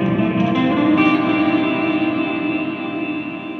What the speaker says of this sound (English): And you can hear the echo.